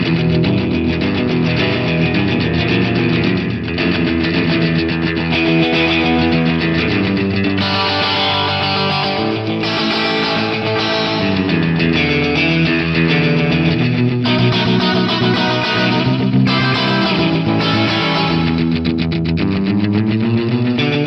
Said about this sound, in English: this one just kind of gives you that classic like long slapback echo